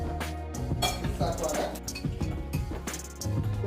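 A spoon clinks and scrapes against a container while powder is mixed in, several sharp metallic taps under steady speech.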